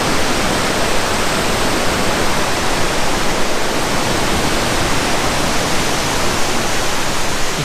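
A mountain stream in Wales, swollen after heavy rain, roars loud and close near Cadair Idris. The broad, steady rushing water noise continues unbroken, with no voices.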